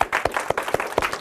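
A few separate claps at an elementary school derby match, sparse and irregular, roughly six sharp hand claps close by in a short burst.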